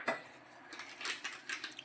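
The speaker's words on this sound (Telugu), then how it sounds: "అందులో కొంచెం పాలు వేసుకొని కలుపుకోవాలండి" Faint clinks and scrapes come from a bowl as milk is stirred into gulab jamun mixture, soft and close, in a short burst of light tapping.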